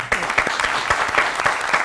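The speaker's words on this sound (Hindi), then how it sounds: "इनके लिए तालियां हो जाए" Studio audience clapping for soldiers on a morning television show, close, brisk hand claps forming a steady, lively patter that holds at even loudness throughout.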